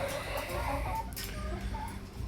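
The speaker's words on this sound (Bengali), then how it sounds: "এই অবস্থায় মুরগিগুলো পালন করছি। নিচে কিছু ফাউমি আর উপর সব লেয়ার।" Fayoumi and layer hens in a coop make a dense, continuous murmur of overlapping clucks, with a steady low hum from ventilation fans beneath.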